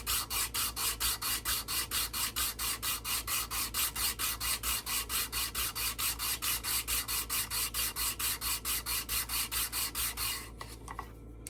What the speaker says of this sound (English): it creates a easy way, especially if you clamp this down like I do, to sand a flat surface.